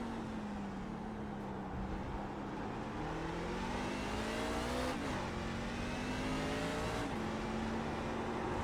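A race truck engine in the iRacing video game drones loudly, then drops pitch through downshifts with two sharp throttle blips about two seconds apart, continuous and without talk.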